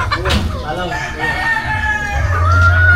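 Hens cluck and a rooster crows on a farm, the crow rising clearly near the end over a steady bed of clucking and background voices.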